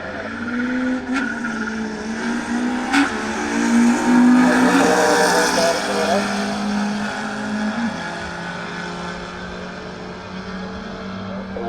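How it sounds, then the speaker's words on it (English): A Mk1 and a BMW E92 drag race down a quarter-mile strip at Killarney, their engines roaring at a distance in one long, sustained swell that rises and fades beneath crowd ambience. "Suspect Racing Mk1 against E92, I think."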